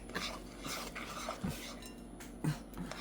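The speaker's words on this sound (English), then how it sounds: "Stirring up the biscuit." Bisquick biscuit dough mixed with milk and oil is stirred in a bowl, giving soft, irregular scraping and light clinks of utensil against the dish, faint and close.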